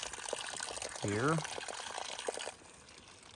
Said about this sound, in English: so it's going to fill up the gallon jug